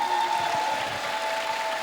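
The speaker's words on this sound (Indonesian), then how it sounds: "Tepuk tangan untuk kita semua." A gathering of hundreds of young people at a live church youth session applauds, a short, moderate burst of crowd clapping lasting under two seconds beneath a faint steady tone.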